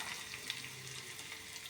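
Finely chopped coconut sautés in a pan for kara appam, a soft continuous sizzle and crackle heard close and fairly quiet, with no talking.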